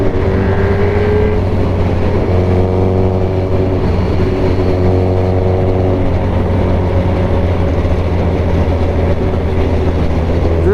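Suzuki Hayabusa motorcycle with an aftermarket exhaust riding through Dubai traffic, a steady loud engine drone with a sustained tonal hum and dense road and traffic rumble throughout, no talking.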